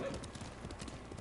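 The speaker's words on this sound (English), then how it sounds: "Good horse." A black horse in the Ghost of Tsushima video game clops along with steady hoofbeats and gives a brief whinny near the start, all close and continuous with faint game ambience.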